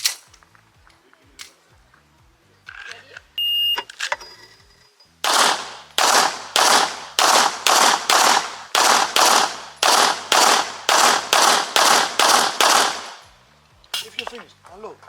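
Pistol shots crack out during an IPSC shooting drill: after a quiet stretch with brief handling noises comes a rapid, loud string of roughly fifteen evenly spaced shots, then a couple more near the end.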